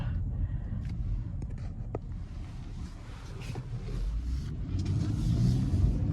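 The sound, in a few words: Acura TLX V6 engine accelerating, SH-AWD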